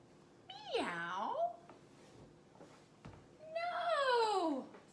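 A voice imitates a cat twice, with a wavering, pitch-sliding meow early on and a longer, rising-then-falling meow later. Soft breathy gaps separate the two close, clear calls.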